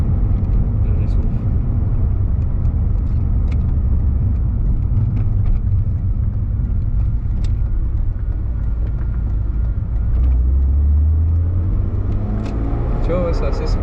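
A BMW M3 E36 drives on the road with a steady, loud low engine rumble and road noise throughout, and the pitch rises near the end as it accelerates. People talk inside the car.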